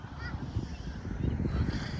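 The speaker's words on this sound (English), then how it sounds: "The kids are amazed about the birds out there." Geese honk near the flooded Mississippi River, a rough, continuous chorus of low calls, moderately faint against outdoor background noise.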